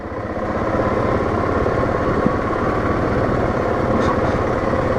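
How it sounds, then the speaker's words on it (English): An ATV engine braking down a steep hill called Canada Hill, a steady loud low engine drone with a continuous rumble throughout and no talking. "right now I'm just letting the engine brake do its thing"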